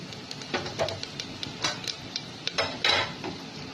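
Whole garam masala spices dropped into hot oil in a pressure cooker while making haleem: light crackling and sizzling mixed with irregular clinks and scraping of a spoon against metal. No voices.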